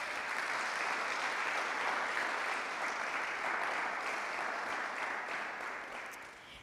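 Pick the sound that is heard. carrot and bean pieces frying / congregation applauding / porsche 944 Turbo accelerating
congregation applauding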